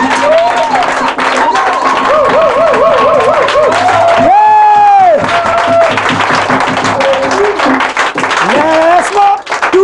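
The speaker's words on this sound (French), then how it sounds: "Acclamons Yeshua." A church crowd in Franceville cheers, claps and raises voices in acclaim of Yeshua, loud and continuous, with singing and shouting over steady applause throughout.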